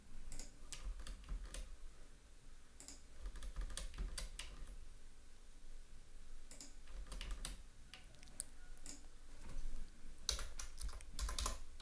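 Typing on a computer keyboard while writing Python code, a quiet, close stream of irregular key clicks in short bursts and pauses over a faint steady hum.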